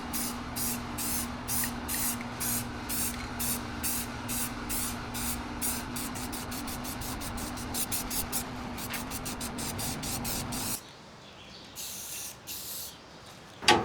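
Primer sealer sprayed from an aerosol can onto a metal hazmat placard mount, heard as a long run of rhythmic short hissing bursts over a steady hum, stopping near the end with one closing rattle.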